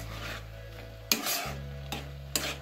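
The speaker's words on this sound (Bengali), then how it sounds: "এরপর সেগুলিকে ভালোভাবে আরো একবার নাড়িয়ে নেব।" Carrot halwa cooked with milk is stirred in a pan, producing a low simmering bubble with a few sharp scraping strokes of the spoon, close up and without voices.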